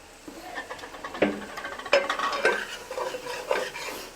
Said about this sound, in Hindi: हम फिर भी इसको मज़ीद 2 से 3 मिनट के लिए और इसको भूनेंगे